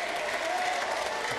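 Steady applause from a political audience, a dense continuous clatter of clapping held at even loudness throughout, with no voice over it.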